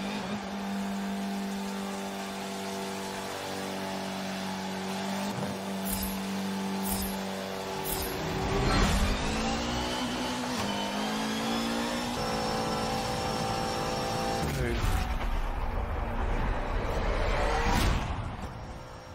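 Touring race cars in Forza Motorsport 7 roar through a race, engines revving and shifting with rising and falling pitch, loud and steady with no talking.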